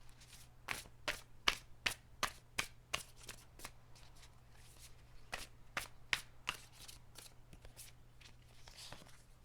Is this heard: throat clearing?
no